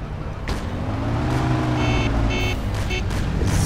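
Car engine in the Mafia video game pulling away, a steady low motor drone rising slightly as the car drives off, with faint beeping tones and game effects over it.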